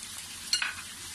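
Mutton sizzles and gets stirred in a hot karahi, a quiet crackling fry with one brief scrape of a spoon partway through.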